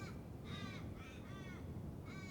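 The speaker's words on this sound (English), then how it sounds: "She heads back to the updraft on the hill, followed by a forest raven." Forest raven cawing on a hillside where a wedge-tailed eagle soars, four harsh, hoarse calls in a slow series, moderately near over steady wind and ambient noise, no voices.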